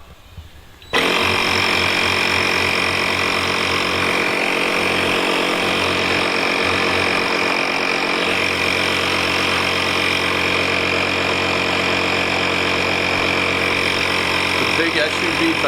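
A cordless portable tire inflator starts abruptly and runs at a steady loud mechanical drone, pumping air into a big SUV tire; the buzzing motor continues unbroken, with faint low rumbling beneath.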